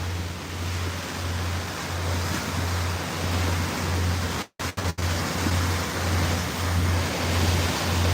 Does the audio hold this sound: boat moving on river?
yes